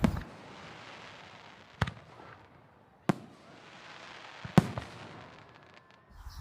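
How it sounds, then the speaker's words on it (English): Fireworks crack in the distance on a homestead, four sharp isolated bangs spaced a second or more apart over a quiet outdoor background. "I think it's the fireworks."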